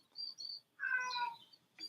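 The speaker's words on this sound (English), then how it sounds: "I am really nervous because Bobby, he's meowing, and I don't know why" A cat meows indoors, two short high calls followed by a longer louder meow, close and clear with quiet gaps between.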